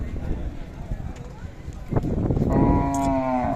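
A Khillar cow moos at a busy cattle market, one drawn-out low call rising near the end, while people talk and other market noise carries underneath.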